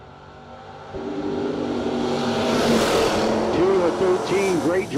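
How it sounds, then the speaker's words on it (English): Drag racing cars, a third-generation and a first-generation, launch and accelerate hard down the strip at the No Delay Nationals, engines roaring and climbing in pitch, with a voice talking over the noise. "Great drag race, heading to the top end"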